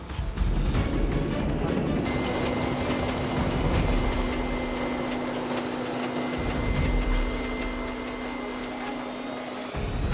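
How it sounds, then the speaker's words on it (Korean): A forest firefighting helicopter with the Korea Forest Aviation Headquarters flies nearby with a loud, steady rotor and turbine drone and a high whine that holds throughout. "빠른 진화를 위해 헬기 투입이 결정"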